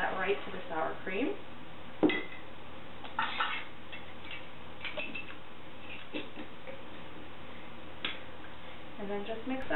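Salsa is stirred into sour cream in a bowl, with a spoon scraping and tapping against the bowl in scattered light clicks and knocks, fairly close and quiet, with a voice talking briefly at times.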